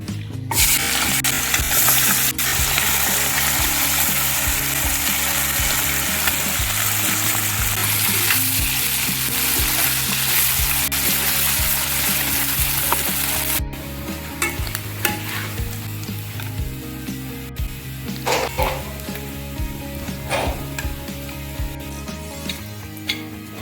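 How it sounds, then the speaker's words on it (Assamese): Leftover pieces of fish frying in hot oil for a traditional Assamese fish and poka komora fry: a dense, steady sizzle fills the whole stretch, with occasional clinks and scrapes of stirring, a low hum underneath, and no talking. "বাকী থকা মাছখিনি মই এনেকৈ ভাজি ল'ম"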